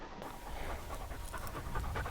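A bird dog puppy panting hard after running in the field, quick rhythmic breaths close by, steady throughout with faint wind in the background.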